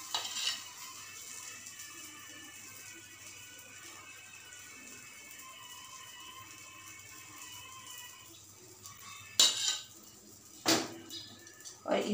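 Eggless pancake batter cooking in a pan on low to medium gas gives a faint, steady soft sizzle, broken near the end by a few sharp clinks of a utensil against the pan.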